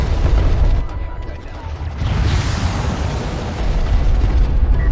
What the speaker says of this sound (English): He's correctly focus firing that carrier